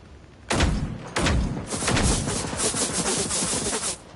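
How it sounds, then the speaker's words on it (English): Sniper rifle shots in the Generation Zero video game, two sharp loud reports about half a second apart followed by a longer rumbling burst of fire that fades out. "I also feel like this sniper's a little weird in its recoil"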